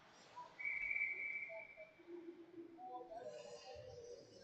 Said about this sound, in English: Unknown whistle.